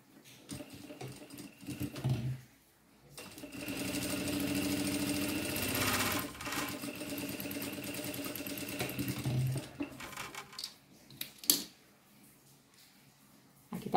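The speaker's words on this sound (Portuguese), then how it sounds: "Vou passar uma costura na beiradinha." A sewing machine stitches a seam along the edge of a fabric pocket on pantacourt trousers, a steady close mechanical whir running about seven seconds between shorter bursts and pauses, with no talking.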